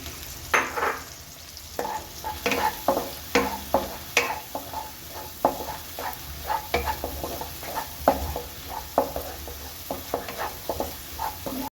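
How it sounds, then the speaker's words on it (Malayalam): Ginger garlic paste fries in a pan for pasta, a constant close sizzle punctuated by regular scraping clacks of a spoon stirring against the metal, with no speech. "പാകത്തിലേക്ക് ഇഞ്ചി വെളുത്തുള്ളി പേസ്റ്റ് ഇട്ട് കൊടുക്കാം"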